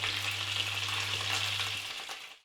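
Chanterelles sizzle in sour cream with a small amount of oil, a continuous close frying hiss that dips briefly before cutting off.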